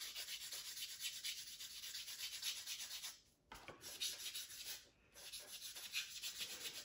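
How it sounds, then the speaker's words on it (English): Quick scratchy strokes of 220 grit sandpaper smooth the cut end of an acrylic rod for scale model work, close and steady with two brief pauses, no voices. "then I'll just take like a 220 grit. And I'll just smooth it out."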